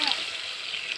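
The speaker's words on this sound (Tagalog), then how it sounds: "Yan ang tubig." Water pouring into a pot of miswa soup with garlic and carrots, a faint soft splashing and sloshing.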